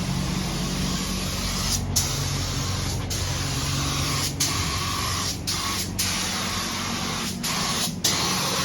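Clear coat hisses steadily from a spray gun onto a first-gen Cummins truck, a continuous close-up spray broken by several brief pauses between passes, with no talking.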